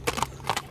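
Hooves of a four-year-old horse clip-clopping, a few quick close steps in a short burst.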